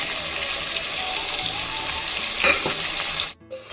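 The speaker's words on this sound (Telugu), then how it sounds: "నేను కుక్కర్లో చేసుకుంటున్నా నెక్స్ట్ టమాటా ఇప్పుడు ఇందులో మిర్చి పౌడర్" Tomato and chili powder sizzle and fry inside a pressure cooker, a steady close crackle with a brief clink of stirring near the end before the sound cuts off.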